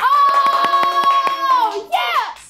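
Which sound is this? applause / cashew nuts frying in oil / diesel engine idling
applause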